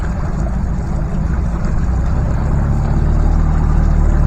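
A Yamaha 70 hp outboard motor on a MacGregor 26X sailboat runs steadily at about 1,000 RPM, giving a continuous low, loud engine drone with no pauses and no voices.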